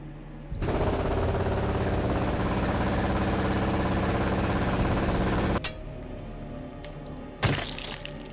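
A drill grinds into rock in the Underrail video game, a loud continuous rattling burst lasting several seconds before cutting off, followed by a couple of short clanks.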